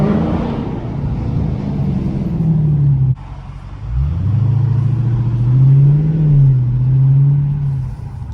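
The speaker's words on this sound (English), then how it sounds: "I can for sure hear downshifts more though" A Dodge Scat Pack running without mufflers rumbles nearby, its pitch dropping and rising again as it downshifts and revs back up in a low, throaty drone.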